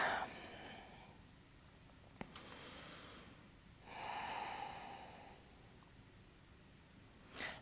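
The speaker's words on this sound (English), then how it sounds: "and breathe." Slow breaths during a hatha yoga pose, a soft inhale and a longer exhale with a brief sniff, heard close and quiet with no talk.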